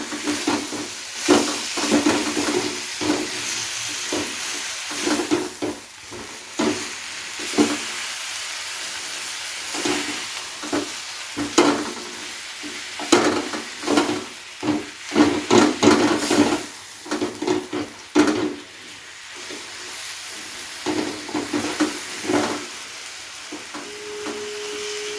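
Sevai vermicelli being stirred and fried in a pan over a low flame, giving a steady soft hiss with frequent scraping stir strokes throughout, no voices.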